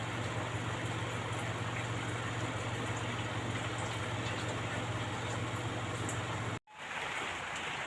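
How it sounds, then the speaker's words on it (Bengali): Rain hisses steadily in a dense, even wash, with an abrupt cut near the end before the patter resumes more quietly. "এখন কিন্তু বৃষ্টি আইছে এই দেখুন"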